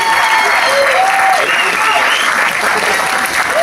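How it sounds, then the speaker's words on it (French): Audience applause at a televised variety show, loud and continuous throughout with crowd cheering mixed in. "On les applaudit bien fort"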